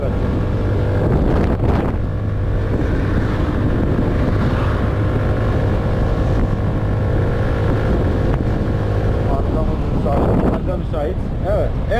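Motolux MTX 125 scooter with a thick drive belt and 9-gram rollers climbing a steep slope, its engine droning steadily and loudly with wind buffeting the microphone and a rider talking over it.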